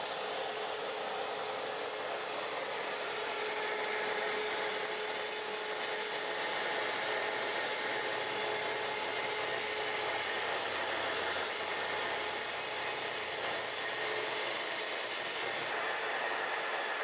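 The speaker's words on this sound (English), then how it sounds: "Adjust the speed on the saw. Set it to top speed for a cut like this." A track saw runs at top speed while cutting the edge of a door, giving a steady, loud, sustained whine and rasp that holds evenly throughout with no pauses.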